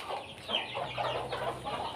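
Native country chickens cluck and murmur steadily on a poultry farm, several birds at close range with overlapping calls and no voices.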